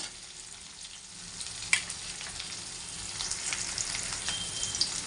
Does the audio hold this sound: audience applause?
no